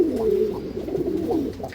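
A male Lambadi pigeon coos in a low, continuous throaty rumble with soft rolling pulses, close and steady with no talking.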